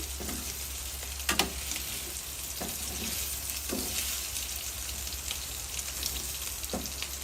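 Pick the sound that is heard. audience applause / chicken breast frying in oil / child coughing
chicken breast frying in oil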